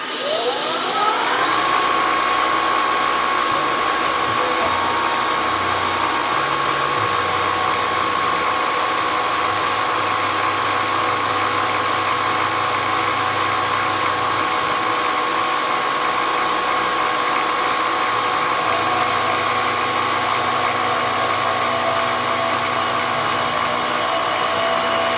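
A CNC milling machine moving its axes during setup, a loud, steady whine and hum of motors held for the whole stretch, with slight shifts in pitch as it travels and no talking.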